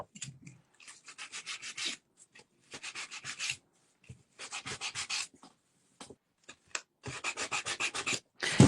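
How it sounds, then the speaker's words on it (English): Light sanding strokes across a painted bee and honeycomb plaque, coming in close, scratchy bursts of several rapid back-and-forth rubs separated by short pauses. "I'm going to dry it, and then I actually am going to just really lightly sand it."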